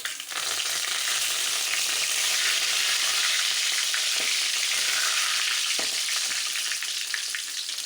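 Prawns frying in hot oil for a Telugu-style prawn dish, giving a loud, steady sizzle with crackles and pops as they are stirred, with no voices over it.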